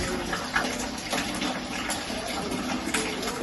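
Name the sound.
water running into homebrew vessel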